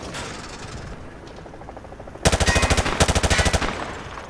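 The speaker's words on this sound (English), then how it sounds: "Grab that weapon off the table and fire at the targets behind you." A weapon fires at range targets in Call of Duty Modern Warfare 2 Remastered, starting with a few faint shots and then a loud, rapid automatic burst of about a dozen rounds.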